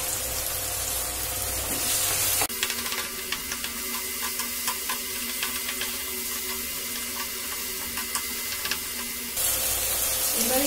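Mashed boiled potato fries in a pan as filling for prawn-stuffed pointed gourd chops, a continuous soft sizzle and hiss with faint scraping, brighter and louder at the start and end.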